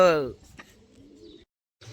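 Pigeons cooing at a friend's house, a soft low coo following a brief voice at the start, then another voice cutting in near the end.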